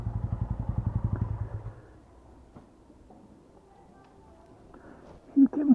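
A Royal Enfield-style Ronin motorcycle idles with a steady low pulsing thump, then the engine cuts off, leaving quiet with a few faint clicks and clunks as the bike is parked.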